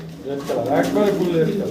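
A red German Shield pigeon cooing close by in a pigeon house, a short soft throaty coo over someone talking.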